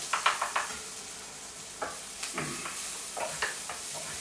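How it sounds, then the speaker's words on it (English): Bacon rashers sizzle and fry in a hot pan for a rigatoni sauce, a steady crackling hiss broken by repeated scraping and stirring clatters, close up with no talking. "So I'll get this a little bit browned off, add the bacon"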